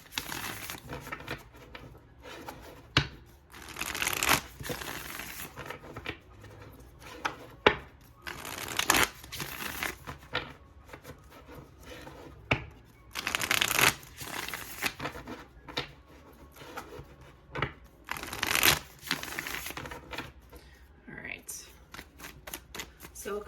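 Tarot cards being shuffled in repeated bursts of riffling and flapping, close and crisp, with pauses between rounds and a voice talking quietly at times.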